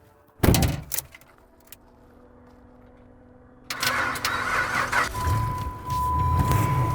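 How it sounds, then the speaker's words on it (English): Car doors thud shut on a vandalized Dodge at a salvage auction yard, two sharp slams close together, followed after a quiet pause by the engine cranking and starting up, then idling steadily. "Here, shut the doors."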